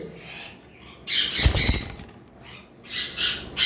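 A pair of caged green fisher birds at a bird farm let out harsh squawks with a burst of wing flapping in the middle, close by, followed by a few more scratchy calls.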